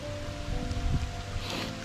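Heavy rain from Hurricane Ian pours down outdoors as a steady, broad hiss with a low rumble of wind beneath, constant and moderately loud, with no talk.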